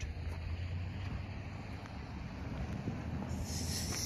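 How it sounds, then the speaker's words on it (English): An eastbound Norfolk Southern freight train rolls past at a distance, a low steady rumble with rattling wagons, buffeted by wind noise on the microphone. "Since he is motoring, Jack, we have a train heading the opposite direction"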